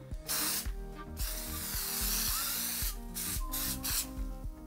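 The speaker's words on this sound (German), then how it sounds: "dann schüttle ich mal und dann sprühe ich das jetzt einfach mal ein." An aerosol can sprays onto jersey fabric in several hissing bursts of varying length, close and fairly loud, over a repeating mechanical background rhythm.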